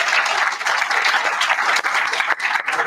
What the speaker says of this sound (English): Another round of applause for Professor Toral.